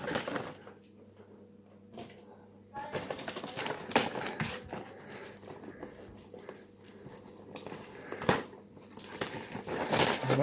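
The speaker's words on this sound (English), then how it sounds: "Watch a middle-aged man struggle to get through cellophane." Scissors snip and tear through cellophane wrapping on a Warlord Games US paratrooper miniatures box, giving close crinkling, crackling and sharp plastic rips in irregular bursts, with occasional louder tears near the end.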